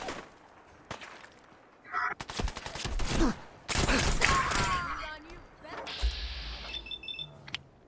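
An Ultimatum 10mm pistol in the video game Fallout 4 fires in rapid bursts of sharp close shots, mixed with impacts and game effects, while a voice talks over the action.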